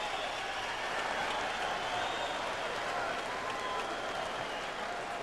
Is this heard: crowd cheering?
yes